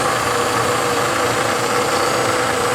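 A model Alco diesel locomotive's DC motor runs in reverse, giving a loud, steady, unbroken whirring hum with a faint rattling edge throughout.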